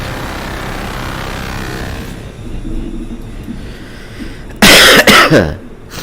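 A single loud, harsh cough lands close into the microphone, cutting sharply through a steady low background rumble before trailing off.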